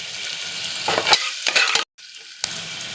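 Carrot, beans and cabbage fry in a hot pan for spinach stem soup, a steady close sizzle with stirring bursts and a brief sudden dropout partway through.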